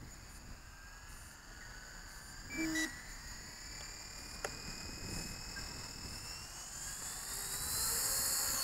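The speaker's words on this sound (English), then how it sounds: "it's actually a really nice little scale heli to fly" A small XK K124 RC model helicopter whines at a high pitch, its rotor tone rising slowly, heard from a distance in open air.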